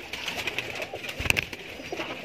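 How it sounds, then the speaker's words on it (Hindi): Soft pigeon coos repeat in a low murmur against a steady background hiss, with a couple of brief rustling knocks midway. "कबूतर जोड़ा है"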